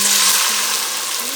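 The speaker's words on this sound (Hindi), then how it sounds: "अब हम डाल लेंगे इसमें पानी।" Water is poured into a pan of browned onions, giving a brief, bright rushing splash and hiss that fades slightly over about a second and a half.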